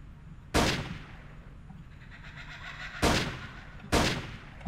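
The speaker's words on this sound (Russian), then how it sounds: "Так, два выстрела, отлично" Three loud, sharp gunshots ring out against raptors in the PC game Trespasser: Jurassic Park, one early and two close together later, each with a short echoing tail over a low background rumble.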